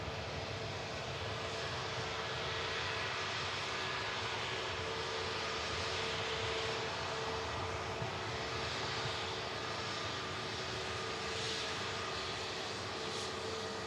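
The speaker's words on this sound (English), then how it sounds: "the Ryanair for Alicante on the move now." A Ryanair airliner bound for Alicante moves at Manchester Airport, giving a steady, moderately loud engine roar with faint whine tones that stays even throughout, with no talk.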